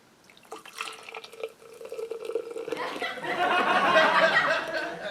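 Foster's beer is poured into a glass, starting with a trickling splash that builds into loud foamy fizzing and gurgling, close by, with no talk.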